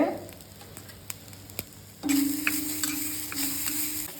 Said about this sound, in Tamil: சிம்மில் வச்சுட்டு தேங்காயை வறுத்துக்குங்க